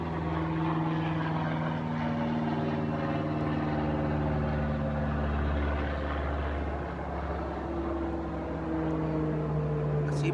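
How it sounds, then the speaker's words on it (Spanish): Propeller airplanes passing overhead on a busy afternoon, a continuous loud droning engine hum with steady low tones that swell and shift slowly, filling the whole stretch with no talking. "Esta tarde está muy activa de aviones y muy enfadosos"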